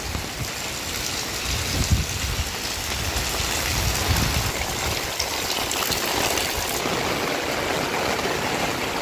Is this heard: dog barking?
no